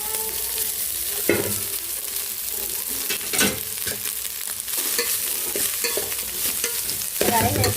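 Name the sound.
stirring rice into egg keema curry in a pan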